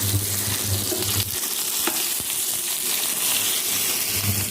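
Food frying in a pan on an induction cooktop for a home-cooked meal of rohu fish curry with potatoes, a steady close sizzle with brief scraping and stirring knocks, no talking.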